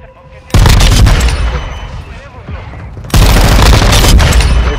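An artillery strike in Call of Duty: Modern Warfare II lands in two loud, close bursts of rapid booming impacts, each a dense roar of explosions that fades off, with a voice speaking briefly between them.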